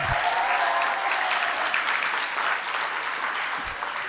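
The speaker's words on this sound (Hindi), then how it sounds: "केसरी के लिए तालियां बजा दो" Audience applause for a performer named Kesari during a Jain religious discourse, steady dense clapping from a crowd filling the whole moment, fairly close and even, with no talking.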